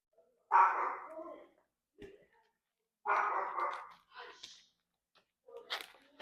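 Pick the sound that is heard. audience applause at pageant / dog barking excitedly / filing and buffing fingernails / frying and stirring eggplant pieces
dog barking excitedly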